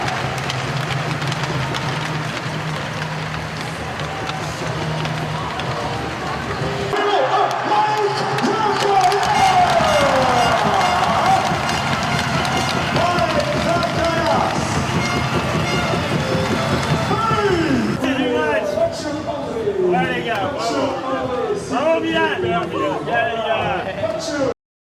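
A hockey arena crowd in Rouen cheers and applauds for the evening's best player, a steady roar of clapping and shouting that swells and shifts over the whole stretch, with a public-address voice over it.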